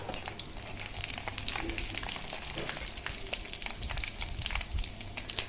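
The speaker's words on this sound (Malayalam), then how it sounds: "ഉലുവ നന്നായിട്ട് പൊട്ടി കഴിയുമ്പോൾ ഉണക്കമുളക് മുറിച്ചതിടുക." Cut dried red chillies frying in hot sesame oil with fenugreek for a passion fruit and lime pickle: an even, close sizzle with scattered crisp pops and light stirring, steady and moderate in volume, no voices.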